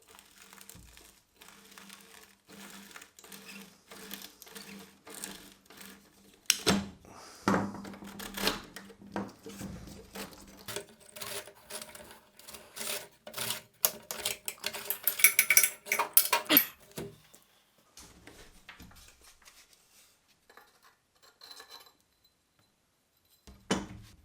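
Metal parts clinking and scraping as the front barrel band and cleaning rod are worked off an old gun under restoration, irregular close clatters and rattles with quieter pauses between bursts.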